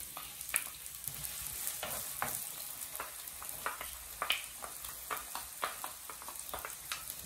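Diced onions sizzle and crackle steadily in hot oil, with occasional stirring scrapes, close up and with no voices.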